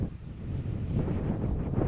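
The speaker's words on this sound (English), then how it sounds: "It's pretty windy and chilly up here" Wind on a mountain summit buffets the microphone in a low, gusty rumble, steady and close, with no other sounds.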